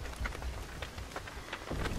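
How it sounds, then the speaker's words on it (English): Rain falls through a red forest in the video game Dead by Daylight, a steady soft patter with scattered droplet ticks and a faint rumbling undertone, moderately quiet and continuous with no voices. "Here, we find Nancy in the rainy red forest."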